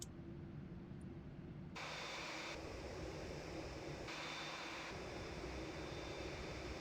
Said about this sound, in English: Here come the slats.